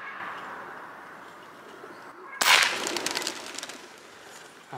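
A pigeon perched on a downed tree outdoors during a hunt gives soft calls over steady ambient noise, followed partway through by a sudden sharp burst and a brief rustle.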